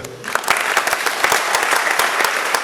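A church congregation applauds steadily, a dense wash of many hands clapping close and loud with scattered sharper claps standing out, and no voices breaking through.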